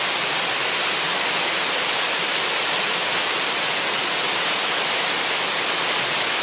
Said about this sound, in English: Cove Creek Waterfall.